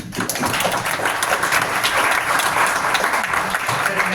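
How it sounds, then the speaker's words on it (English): A round of applause for a presenter at a tech demo night, steady crowd clapping at full strength for about four seconds without a break. "let's give Greg a round of applause"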